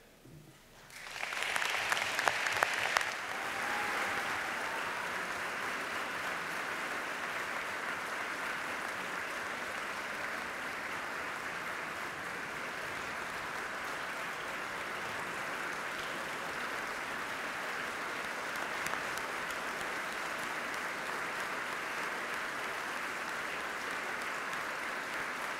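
Sustained applause fills a New York State legislative joint session chamber, rising quickly and holding at a steady, even level for over twenty seconds with no talk over it.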